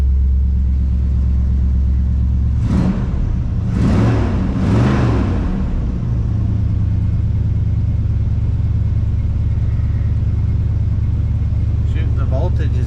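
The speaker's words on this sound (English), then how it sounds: "Man, this truck's never started that nice." A squarebody ramp truck's engine idles smoothly and steadily right after starting, a continuous close low rumble, while someone talks over it.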